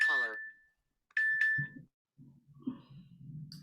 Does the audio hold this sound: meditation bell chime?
yes